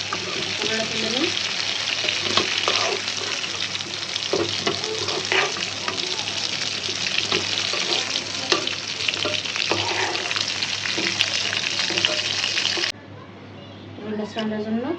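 Potatoes fry and sizzle steadily in a pan at close range, with scraping stir strokes through it, under talking, until the sizzle suddenly drops away near the end.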